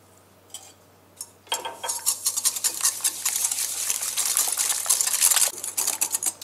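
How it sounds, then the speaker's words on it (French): Eggs being whisked with sugar in a large bowl for a moist butter-free, gluten-free chocolate cake: a brief quiet tap or two, then a steady, busy run of rapid scraping whisk strokes, close and fairly loud, with no talking. "je vais fouetter les œufs avec le sucre"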